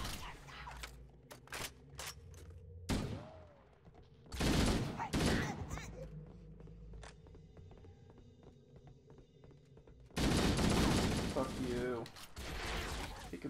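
Gunfire and explosions from the Halo 1 video game, heard as bursts of sharp shots and louder blasts separated by quieter stretches, with a few isolated reports in between.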